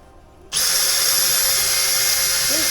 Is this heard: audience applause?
no